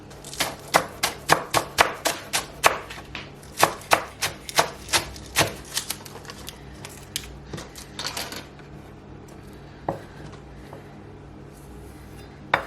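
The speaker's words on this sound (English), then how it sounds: "I'm just going to simply chop some spring onions" Spring onions are chopped with a knife on a board, giving a quick run of sharp, close knocks at an uneven pace. The strokes trail off into sparser, quieter taps and end with one more knock.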